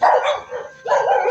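A dog barks and yips in two quick bursts at close range, with a short gap between them and no talk over it.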